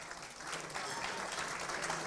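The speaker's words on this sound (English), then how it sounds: "Another round of applause for Troy Kilgour," Audience applause at a Picnic racing awards ceremony for the Trainer of the Year, a dense, even patter of many hands clapping at moderate volume, steady throughout with a faint voice underneath.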